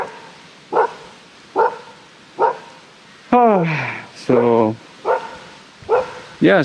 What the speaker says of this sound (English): It's my neighbor's dog. It's tangled with the wire